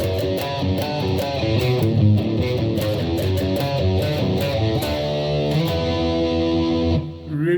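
Distorted electric guitar playing a riff, a fast, repeating run of single notes with effects, sounding loud and steady before stopping near the end.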